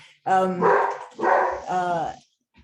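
Several excited dogs barking and yipping indoors as a mobile vet arrives, loud overlapping bursts in quick succession, then a brief pause.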